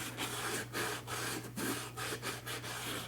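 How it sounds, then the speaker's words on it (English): An old cast iron pan being scrubbed with a salt solution, a rough rasping rub repeated in steady back-and-forth strokes, close and fairly quiet, with a low steady hum underneath. "I'm just gonna scrub and scrub and scrub with that salt solution"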